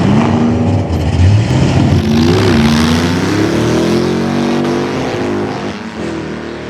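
A home-built race car's engine revs loud and close during a race, its pitch climbing and falling through repeated accelerations before easing off near the end.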